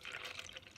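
Protein milk shaken with protein powder and cacao poured from a shaker over food, a brief steady liquid pour heard up close with no talking.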